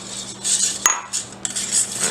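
Milk being mixed into batter in a bowl with a utensil, giving close, irregular scraping and clinking against the bowl, one sharp tap near the middle, no voices.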